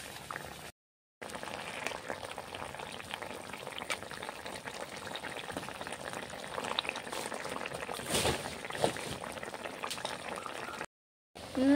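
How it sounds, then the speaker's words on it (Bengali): Parshe and fasha fish simmer in a spicy chili curry sauce in a wok, Bengali style, giving a steady, close bubbling boil that runs almost unbroken, with two brief silent gaps. "দেখো ফুটছে, ভালোভাবে সিদ্ধ হবে"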